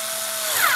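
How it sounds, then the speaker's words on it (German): A power screwdriver whirs steadily and close up as screws are driven to assemble a Phonema Phits Y30A damping kit for a Yaesu SP-30 speaker, one continuous run with the pitch rising near the end. "dann anfangen, die Sache festzuschrauben."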